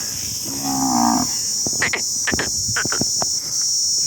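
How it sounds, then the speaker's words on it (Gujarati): Crickets chirp steadily in a farm field at evening, a continuous high buzz throughout, while a bovine lows once briefly near the start and scattered soft clicks and knocks sound nearby. "હા તો જો આ તમરા બોલે"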